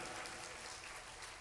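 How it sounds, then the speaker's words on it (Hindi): Crowd at a Hindi sermon clapping on cue, a brief, dense and even hiss of many hands, steady throughout and fairly faint. "अगर ये सच है तो ताली बजा दो।"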